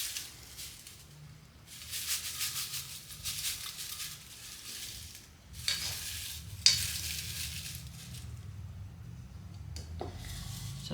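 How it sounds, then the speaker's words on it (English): Dried basil leaves dumped into a bowl, making several bursts of dry crisp rustling and crackling, close up, with a light tap midway and no speech. "I'm going to dump the basil in."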